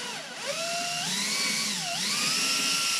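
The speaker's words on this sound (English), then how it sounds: "And then pre-drill the piece a little bit" Power drill boring pilot holes into pallet wood, its whine climbing and dipping in pitch as the bit bites and frees up, close and steady for a few seconds with no talking.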